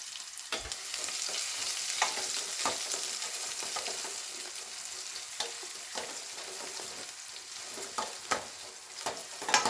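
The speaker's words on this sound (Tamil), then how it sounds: "வெங்காயம் நல்லா வதங்கட்டும்." Two chopped large onions sauté with fennel seeds in a pan for crab curry, giving a steady close sizzle broken by repeated sharp scrapes and clicks of stirring. No one speaks.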